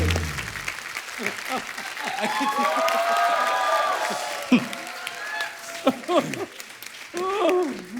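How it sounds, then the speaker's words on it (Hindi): Loud audience applause and cheering swell at a comedy show stage, with voices calling out over the clapping, then breaking into scattered exclamations as the crowd settles. "प्लीज एक बार जीतू सर और एकता जी के लिए जोरदार तालियां।"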